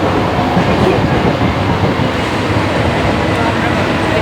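The Balurghat Express, boarded at Madanpur in the evening, rolls along with a loud, continuous rumble and rattle of wheels and carriage, heard from inside the coach.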